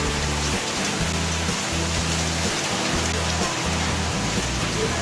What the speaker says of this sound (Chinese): 下大雨了